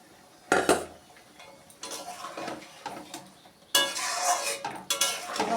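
Potatoes and okra drop into a pot of boiling water for a home-style bhindi curry, making a few clattering, splashing bursts of vegetables and utensil against the pot, close and fairly loud between quieter pauses.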